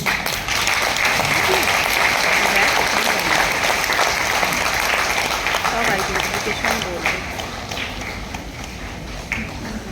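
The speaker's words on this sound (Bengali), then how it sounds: "আপনারা একটু জোরে হাততালি দেবেন" A hall audience applauds to welcome a speaker, with loud, sustained clapping that gradually tapers off toward the end, and a few voices mixed in.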